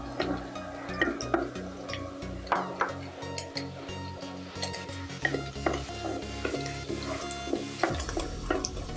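Garlic and ginger fry in a pan for chicken fried rice, a soft sizzle under frequent clinks and scrapes of a spatula stirring against the metal pan.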